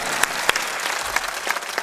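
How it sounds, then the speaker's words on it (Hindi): Audience applause at a Hindi motivational talk, a crowd clapping loudly and steadily for a short burst with sharp individual claps standing out. "इसलिए ताली थोड़ा दमदार मारा करो।"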